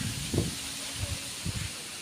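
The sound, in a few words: wind blowing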